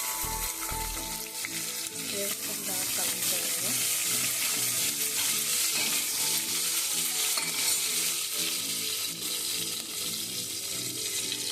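Garlic, green chillies and onion fry in a hot tempering oil, giving a steady, loud, close sizzle and crackle that runs unbroken throughout, with occasional stirring scrapes and no talk.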